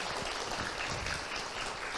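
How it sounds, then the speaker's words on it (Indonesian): An audience at a religious talk claps for a woman who asked a question, a dense, continuous patter of applause heard on its own at moderate distance. "Tepuk tangan buat Bunda yang bertanya."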